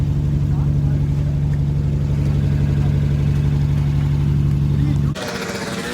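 BMW E36, abandoned for two years, running after a crankshaft position sensor repair, a loud steady engine drone with a rhythmic throb that cuts off sharply near the end, with talk over it.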